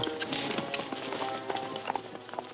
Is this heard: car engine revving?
no